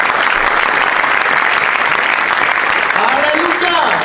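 A church congregation gives a loud, sustained round of applause, dense clapping throughout with voices calling out on top.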